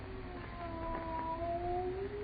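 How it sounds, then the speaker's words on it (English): A cat in a horror radio drama, a drawn-out wavering cat wail rising in pitch, heard over a muffled, low-fidelity background. "Why, no, it's a cat."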